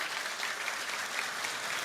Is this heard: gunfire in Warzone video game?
no